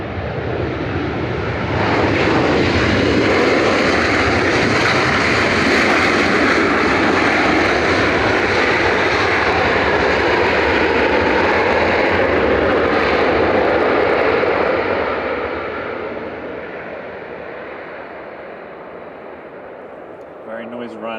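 A TUI Boeing 737-800 jet departs Manchester Airport with a loud, broad engine roar that holds steady for about thirteen seconds, then fades as the aircraft climbs away, leaving a lower distant rumble.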